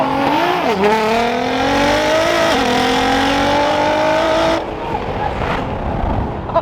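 A sports car engine revs hard in a race and climbs in pitch through the gears, loud and close, then drops off sharply as traction control cuts the power.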